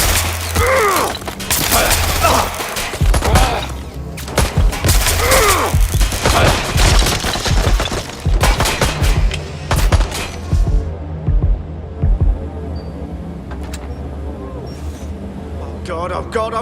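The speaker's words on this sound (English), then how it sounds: "Shots fired! Shots fired!" Rapid, loud gunfire from a shooting suspect in Watch Dogs: Legion cracks out in clustered bursts over the first ten seconds, amid mechanical clatter and shouting voices, then thins to sporadic distant shots.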